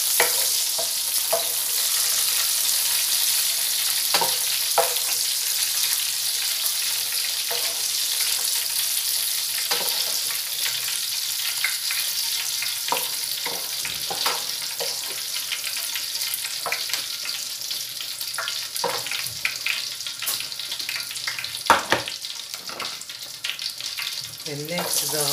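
Steady, loud sizzling of mushrooms frying in hot oil, a constant crackling hiss with occasional sharper pops and spatters throughout.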